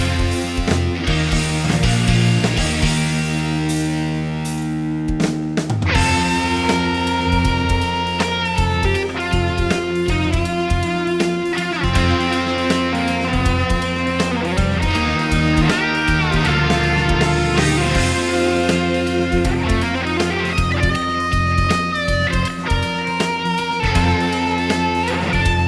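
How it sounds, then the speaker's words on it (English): Two electric guitars, one clean and one distorted, panned to opposite sides, play together in a dense, continuous riff at steady loudness with no voices. "So these are now just one instance of each guitar."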